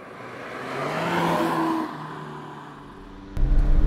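A 2017 Mazda MX-5 RF Premium driving, its engine note rising and swelling as it pulls before easing back, with a louder, deeper rumble cutting in near the end; no one speaks.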